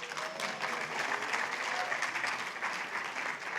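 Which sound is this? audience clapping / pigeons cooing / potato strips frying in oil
audience clapping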